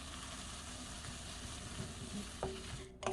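Cucumber and oyster mushrooms stir-frying in a pan give off a steady, close sizzle with soft stirring scrapes throughout, and a couple of brief clinks near the end.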